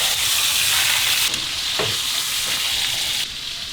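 Loud, steady sizzle of beef searing in a hot tilted pan, with a brief scrape partway through and the frying continuing unbroken throughout.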